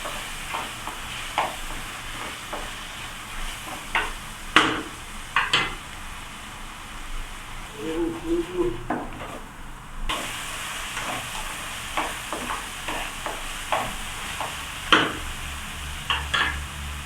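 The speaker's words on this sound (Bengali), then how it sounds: "ফ্রাই হচ্ছে। এখন টমেটো দিয়ে দিছে।" Chicken vegetable curry with tomatoes frying in a pan, a steady sizzle under repeated sharp clicks and scrapes of stirring, close and moderately loud.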